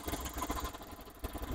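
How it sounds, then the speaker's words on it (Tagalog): A Suzuki Every Wagon DA64V turbo kei camper van idles very quietly, a faint, steady low engine hum with slight pulsing and no talk over it. "Sobrang tahimik na makina"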